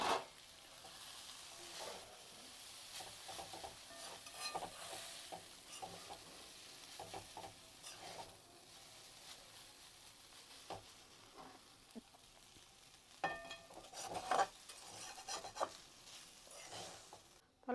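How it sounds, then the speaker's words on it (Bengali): Maggi noodles stir-fried in a little oil in a wok make a quiet, continuous sizzle, with frequent scraping and stirring clatter all the way through and no talking. "এই কড়াই কিন্তু আমি একটু তেল দিয়ে ম্যাগিটা নেড়ে নেবো।"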